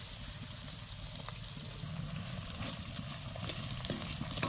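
Ground masala, cumin and red Kolhapuri chili powder roasting in oil in a pan, giving a steady low crackle and sizzle that builds slightly near the end, with no talking.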